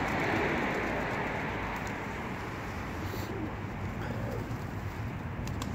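Fancy pigeons on a rooftop with crows nearby, cooing and calling over a steady broadband wash of outdoor noise, fairly close and continuous.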